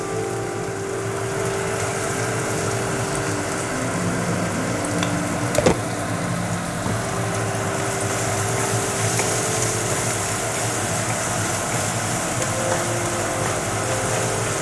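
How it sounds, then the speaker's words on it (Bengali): Chopped tomatoes with salt frying and being stirred in oil in a pan for a Bengali tengra fish curry, a steady, even sizzle with soft scraping of the spoon throughout. "আমি অল্প সময় একটু নেড়ে চেড়ে নেব টমেটোটা নরম হওয়ার জন্য।"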